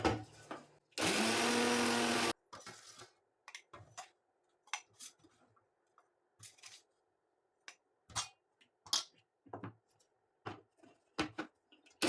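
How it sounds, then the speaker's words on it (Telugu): Electric mixer grinder grinds dried turmeric in one loud burst of about a second and a half, followed by tapping, clicking and handling noises of the jar. "మళ్ళీ ఇప్పుడు మిక్సీకి వేద్దాం."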